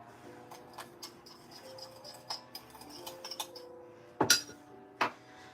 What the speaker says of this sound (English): Another way I like to mix colors is just by shaking the bowl.